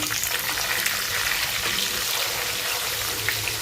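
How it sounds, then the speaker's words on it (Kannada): Hing and curry leaves sizzle steadily in hot oil while a tempering is made for mango pickle: a close, continuous crackling fry that stays level throughout with no talk. "ಈಗ ಇದನ್ನು ಆರಿಸಿದ ಮೇಲೆ ಹಿಂಗು ಮತ್ತು ಕರಿಬೇವು ಹಾಕೊಂಬಿಡೋಣ ರೀ"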